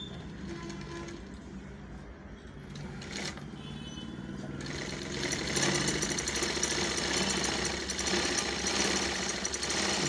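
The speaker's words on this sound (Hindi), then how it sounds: "अब सिलाई करके देखेंगे कि हमारा सिलाई हो रही है या नहीं" An industrial sewing machine stitching after a shuttle timing adjustment, a rapid mechanical rattle that begins partway in and runs continuously and loud to the end over a low hum.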